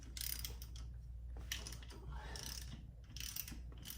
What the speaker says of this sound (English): I'm just going to use my ratchet.